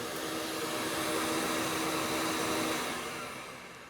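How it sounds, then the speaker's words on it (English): A shop vacuum connected to a drill press table system roars steadily at close range, a broad constant whoosh with a faint whine, easing off slightly near the end as it runs on to clear the line. "the vacuum will continue to run for a few seconds to clear the line"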